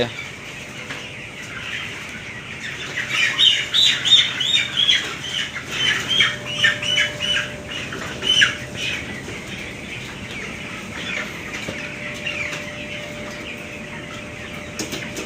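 Broiler chickens on a poultry farm squawk and beat their wings in loud bursts while being weighed at 21 days old. The flurries build in the middle of the stretch, then settle into scattered clucks over a faint steady hum.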